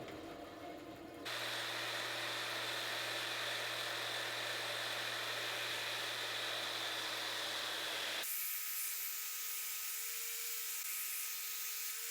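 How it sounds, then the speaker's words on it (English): A belt sander shapes wooden salad tongs, starting after a short pause and running with a steady whining hum, then cutting off into a quieter, different motor drone. "I shaped this a bit using the belt sander here."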